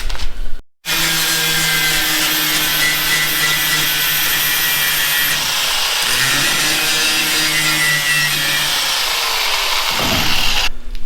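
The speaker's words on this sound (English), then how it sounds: "let me get this dressed up with a grinder" A grinder dresses metal parts on a 1970 Ford wrecker, running loud and continuous with a steady high whine that dips briefly near the start and shifts pitch slightly as it bites into the steel.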